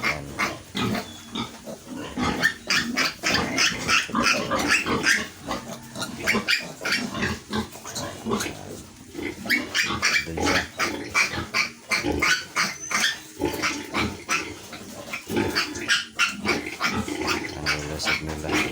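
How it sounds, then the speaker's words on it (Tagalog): Newborn piglets squeal and grunt alongside a nursing sow right after farrowing, a busy, continuous chorus of close-up oinks and squeaks with no talk over it. "So malulusog ng mga biik yan."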